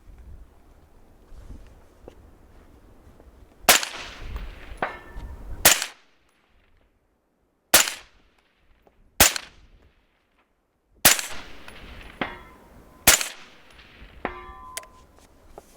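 Rifle gunshots fired from a kneeling position at an outdoor shooting range, six sharp, loud cracks spaced a second or two apart, each followed by a brief ringing tail and quiet pauses between.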